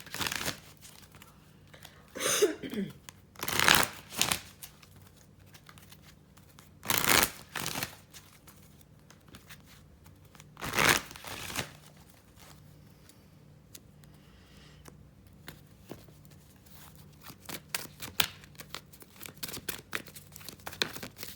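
A deck of tarot cards shuffled by hand in a quiet room, several short riffling bursts spaced several seconds apart, fairly close, with faint rustles in between and no talking.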